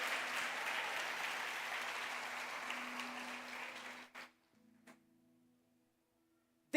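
Church congregation applause, a fairly distant and steady wash of clapping that fades out after about four seconds, followed by a couple of isolated claps and near silence.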